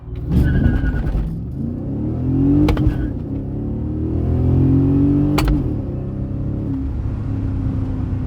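A 1998 BMW E36 with a 4.4 V8 accelerates hard through several gears, the engine note climbing in pitch then dropping at each shift, loud and close throughout.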